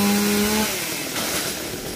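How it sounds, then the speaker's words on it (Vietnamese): A chainsaw cuts Indian mahogany trees in a garden, its engine whining at a steady pitch then dropping as it bogs into the wood, close and loud over a brief stretch. "chú Ba với anh Dân leo lên cưa hai cây xà cừ Ấn Độ"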